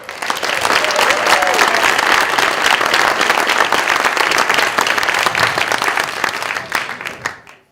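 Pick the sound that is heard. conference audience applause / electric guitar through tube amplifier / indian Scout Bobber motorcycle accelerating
conference audience applause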